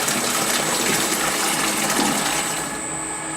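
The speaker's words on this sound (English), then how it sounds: "after a minute, you can dispense out the water one more time" Water pouring out of a Presidential soft-serve machine's dispenser during its wash cycle, a steady rushing gush with a faint high mechanical whine over it, close and continuous.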